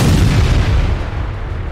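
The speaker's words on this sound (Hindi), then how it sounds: "एक जोरदार धमाका हुआ, हर कोई सन्न रह गया" A volcano in Italy erupts with a loud, deep boom that rolls into a heavy broadband rumble and slowly eases off over a couple of seconds.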